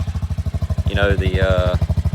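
A Polaris Pioneer 500 side-by-side with its exhaust baffle pulled out idles in a steady loud thump, then revs up briefly in the middle before dropping back to a throbbing idle, heard up close.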